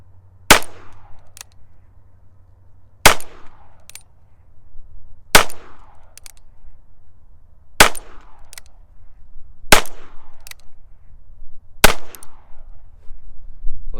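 A Ruger Wrangler revolver with a 7.5 inch barrel fires 40 grain bullets outdoors, six sharp, loud cracks spaced roughly two seconds apart, each trailing off in a short echo, with no talking.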